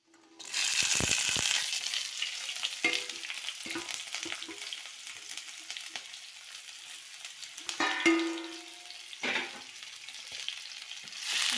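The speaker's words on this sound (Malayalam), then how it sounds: "നല്ലപോലെ ഇളക്കി കൊടുക്കാം ഉള്ളി നല്ലപോലെ വഴണ്ട് വന്നതിലേക്ക്" Chopped shallots and green chillies frying in hot oil give a steady loud sizzle, broken by close spoon scrapes and clinks against the pan as they are stirred throughout, with no voices.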